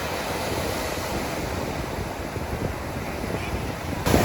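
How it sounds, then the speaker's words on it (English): Ocean waves wash continuously onto a beach at night, a steady broad roar with some wind noise and no talking. "Here's a moment of silence to just enjoy the beach."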